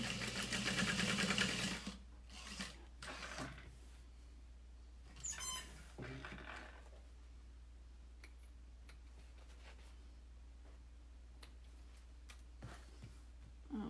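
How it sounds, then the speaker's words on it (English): A sewing machine sews straight lines across a saddle bag, a loud run of fast stitching at first, then shorter bursts and clicks with quiet gaps between. "So you're gonna sew 2 lines, one straight across the bottom and then one an inch away from the bottom."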